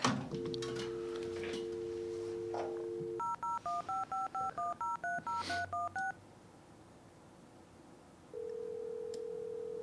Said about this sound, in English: I can phone up Stone Cold Steve Austin on the dial phone.